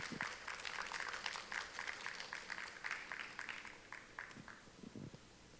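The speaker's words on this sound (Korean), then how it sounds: "여러분 큰 박수로 맞이해 주시기 바랍니다." Applause from a forum audience in Yeosu greeting a speaker joining online, steady but fairly faint clapping throughout with a few voices and a louder clap or two near the end.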